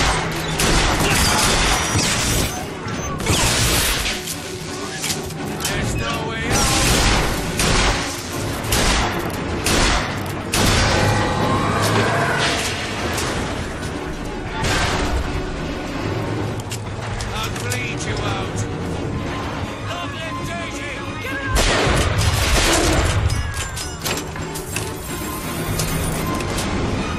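Rapid automatic gunfire from a motorized patriot, the mechanical enemy in BioShock Infinite, bursts loudly and near amid crashes, clinks and booms of a dense game firefight.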